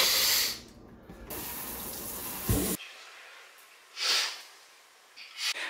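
Cold water runs from a tap in short bursts, a hissing gush that starts and stops a few times, with breathing and snorting nearby between the flows.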